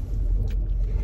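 Low, steady engine rumble from a car running close by, a continuous idling drone with no voices over it.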